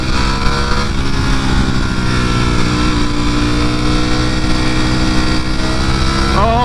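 A Ducati Panigale V4 motorcycle engine accelerates hard and loud in a steady, continuous roar with rising harmonic tones as it picks up speed, and the pitch climbs sharply again near the end.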